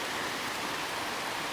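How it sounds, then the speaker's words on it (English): Water rushing through canal lock gates on the Grand Union Canal, a steady broadband roar close by and fairly loud, with no other sounds standing out. "it's very noisy down here, as you can tell by the water coming through the gates"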